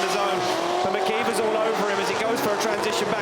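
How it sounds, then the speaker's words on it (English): A drift car at the 2024 Drift Masters Round 4 Top 16 in Latvia kicks the clutch, its tires squealing loudly and continuously over engine roar, with a commentator talking throughout. "Big clutch kick initiation for Piskolty"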